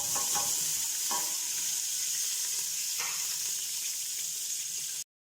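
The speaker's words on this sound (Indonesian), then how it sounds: "Pertama masukkan minyaknya, terus masukkan bawang merah sama bawang putih." Shallots and garlic fry in hot oil in a pan, a steady close sizzle with a few stirring scrapes, continuous for about five seconds before cutting to silence.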